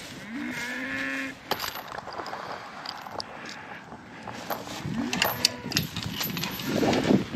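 Cattle moo several times, one long low call near the start and more lowing later, with rustling and shuffling noises in between.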